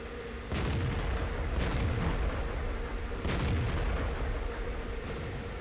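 Heavy tank cannon blasts from a video game featuring the 54E1 tank, delivered as the finishing shot: several loud booming shots over a constant rumbling battle background.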